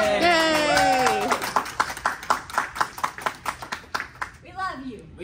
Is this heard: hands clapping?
yes